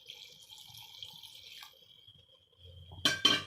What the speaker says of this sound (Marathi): थोडंसं आणखी पाणी ओतूया आपण